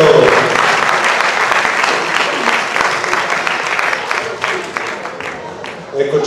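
Audience applause at a cultural gala evening, loud sustained clapping from a large crowd filling the hall, with a voice speaking over it near the end.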